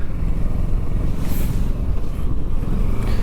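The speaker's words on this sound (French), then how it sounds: "Maintenant, je vais tester le freinage combiné." A 2023 Kawasaki Versys 650 motorcycle riding and braking hard with combined brakes, heard as a steady loud engine and road rumble mixed with wind buffeting on the microphone, with no clear change as the brakes are applied.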